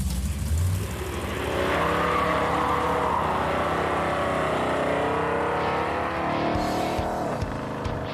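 A 440-powered General Mayhem car roars through a burnout, its engine bellowing loud and close with a long, sustained rising and falling exhaust drone and tire noise, ending with a few sharp pops.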